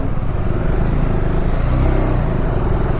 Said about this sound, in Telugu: నాకు ఈ చెక్కల సౌండ్ చూస్తేనే భయం అవుతుంది అసలుకి.